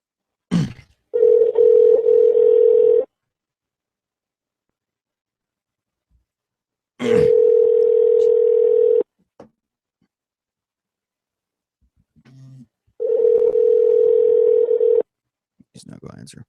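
A telephone rings three times during a prank call, each long steady electronic ring separated by silence, with a few brief bits of talk between rings.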